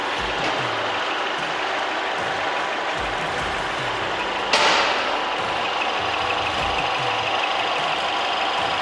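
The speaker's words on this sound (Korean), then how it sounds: "엔진 소리 일정하고 좋습니다." A 2021 Mercedes-Benz E-Class W213 E350 4MATIC AMG Line idles in its open engine bay with a steady, even hum, broken once by a brief sharp rise partway through.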